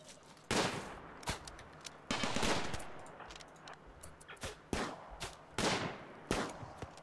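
Bursts of rapid automatic gunfire aimed at a defensive turret in the colony-building game RimWorld, several separate volleys spaced across the clip, crisp and fairly loud with short gaps between.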